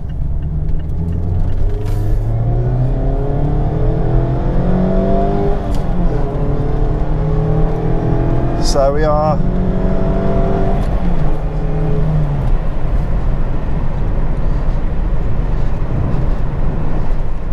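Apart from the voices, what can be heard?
sports car engine while driving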